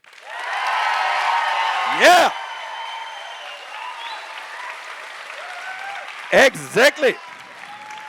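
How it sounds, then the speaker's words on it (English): A science slam crowd in Berlin bursts into loud applause and cheering, steady dense clapping with sharp whoops and shouts rising above it, trailing off while a voice calls out near the end. "How does a stage 10 applause sound like tonight?"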